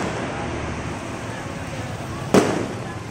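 A single sharp firework bang bursts out at a fiesta in Pampanga against a steady rumble of background noise, its echo fading afterward.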